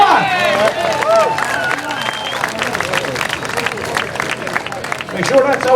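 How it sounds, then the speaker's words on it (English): A crowd at a tractor pull applauds and cheers outdoors, a busy roar of clapping mixed with shouting voices and babble that holds steady across the moment. "Let's give him a massive round of applause."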